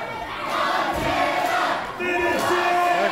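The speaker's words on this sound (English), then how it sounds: "The crowd chanting Montana." A wrestling crowd at a 1819 title match between Kevin Bless and Don Montana chants Montana's name, a loud, sustained roar of many voices in rising and falling waves that dips briefly before surging again.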